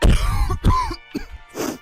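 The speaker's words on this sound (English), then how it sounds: "coughing in a video is not inherently funny" Several rough, throaty coughs and throat-clearing sounds in a short burst, loud and close.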